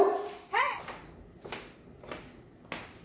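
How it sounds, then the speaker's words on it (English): A dog barks upstairs, heard indoors and somewhat distant, in several separate sharp barks spaced about a second apart. "that's my dang dog being the neighborhood watch upstairs"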